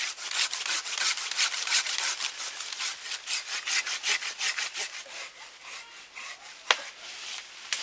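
A hand saw cuts through an older mango tree branch in quick, rhythmic back-and-forth strokes, close and rasping, with a sharp crack near the end.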